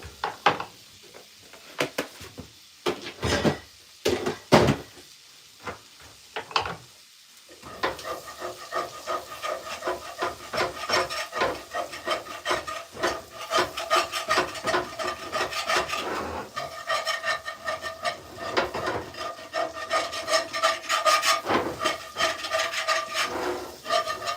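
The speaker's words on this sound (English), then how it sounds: "Scrape this pan a little bit." Metal utensil scraping and rasping across a pan of buttered potatoes with bacon, cooked at a cabin; sharp, close scrapes start irregularly, then settle into steady, continuous rubbing for most of the stretch.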